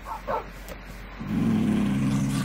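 A dog in a video game barks after being tamed: two short barks near the start, then a steady, louder droning tone fills the rest.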